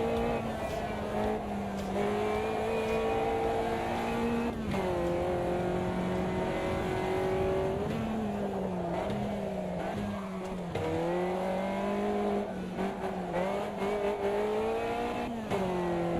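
A race car in the AMS2 racing game drives continuously, its engine droning and shifting pitch through gear changes and revs over a steady close hum, with no talk heard.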